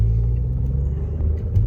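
Low, steady engine rumble from an Audi S3 idling or moving slowly, close and fairly loud, a continuous deep drone with no voices.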